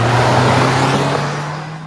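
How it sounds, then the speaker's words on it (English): A car engine drones loudly and steadily with a low hum, fading slightly as the vehicle slows, in a film scene. "Am I tripping or is the car slowing down?"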